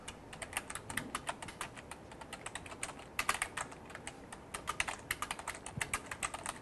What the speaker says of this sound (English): Let me just type in one sentence.